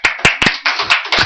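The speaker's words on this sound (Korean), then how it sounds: "박수 한번 쳐주세요." A church congregation claps hands together in six distinct, loud, close bursts, each a short sharp cluster of claps, with no talking over them.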